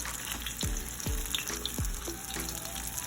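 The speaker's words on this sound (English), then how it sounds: "you are going to sear these for about 2 minutes" Meatless vegetarian meatballs searing in avocado oil make a loud, steady close-up sizzle, punctuated by a few soft pops and low thuds as pieces settle in the pan.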